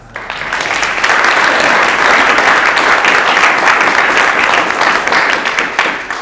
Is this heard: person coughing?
no